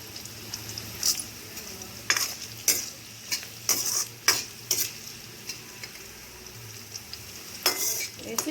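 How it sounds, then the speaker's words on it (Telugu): Half a spoon of black peppercorns frying in a pan for coconut rice, a low steady sizzle broken by repeated scraping and rattling bursts as a spoon stirs them, with no voices. "వేసి బాగా వేయించుకోవాలి. పచ్చి వాసన పోయే వరకు వేయించుకోవాలి."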